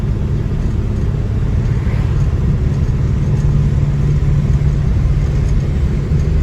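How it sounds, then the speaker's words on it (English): A 1961 Ford Falcon Futura drives along, its engine giving a steady, loud, low rumble from inside the car with constant road noise and no pauses. "This is definitely a great running and driving Ford Falcon."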